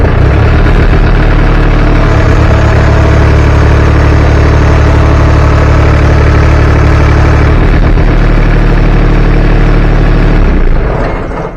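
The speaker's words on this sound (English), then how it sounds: "now I'll start the tractor and I'll lift up the 3-point." A compact tractor engine runs loud and close with a steady, deep rumble, its pitch shifting slightly as the three-point hitch lifts a mid-mount mower, before cutting off near the end; no one speaks.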